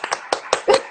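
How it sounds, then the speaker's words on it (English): A single person claps a few times in self-applause, four or five sharp, uneven hand claps close by, with a brief voice near the end. "I just have my own applause"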